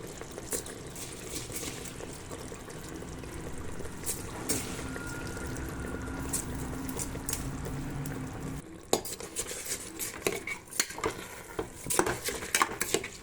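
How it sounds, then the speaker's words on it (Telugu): Soaked rice being stirred into mutton pulao in a pot: a spoon repeatedly scrapes and knocks against the metal with a soft sizzle underneath, then turns into sharper, more irregular clatter toward the end. "అన్నీ కలిసేలాగా బాగా కలుపుకుందాం"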